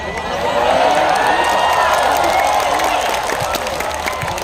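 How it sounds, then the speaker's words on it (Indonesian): A large crowd at an outdoor religious sermon in a town square applauds and cheers loudly and continuously, with a steady wash of clapping and shouting throughout. "Tepuk tangan"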